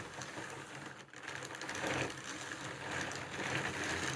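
A hand-cranked drum carder blending wool and silk fibres for three-ply yarn, giving a soft, steady whirring and rustling with faint mechanical clicks, fairly quiet and close, with no talking.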